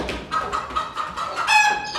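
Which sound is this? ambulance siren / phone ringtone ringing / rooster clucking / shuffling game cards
rooster clucking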